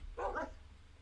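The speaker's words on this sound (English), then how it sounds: "There's different sounds to these wolves." A Minecraft wolf gives a single short bark, close and clear, over a low steady background hum, then quiet.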